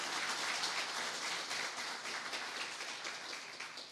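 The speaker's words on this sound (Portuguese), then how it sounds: "Vamos aplaudir ao Senhor, igreja." A church congregation applauds together, a dense, fairly faint wash of clapping hands that holds steady for several seconds and eases slightly toward the end, with no voices over it.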